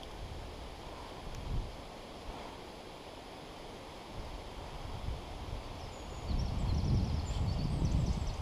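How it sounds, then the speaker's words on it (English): Wind blows beside the River Test, a soft, low rushing that swells in gusts, strongest near the end, with faint rustling and no speech. "Wind."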